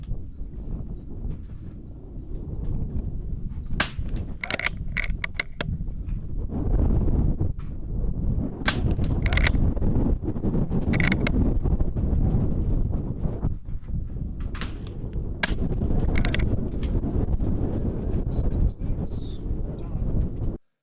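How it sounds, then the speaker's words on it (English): Strong gusts buffeting the microphone outdoors at a rifle match, producing heavy, low rumbling roar that swells and persists almost the entire time, with scattered sharp knocks and clicks riding on top. "There's that wind again."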